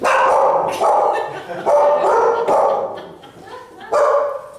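Dogs bark in a quick series of overlapping, loud, close bursts with a few higher yips mixed in, the barking continuing steadily for several seconds.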